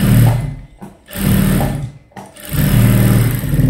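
A sewing machine runs stitching a folded seam on a princess cut blouse, three loud close bursts of rapid whirring separated by short pauses, no voices over it.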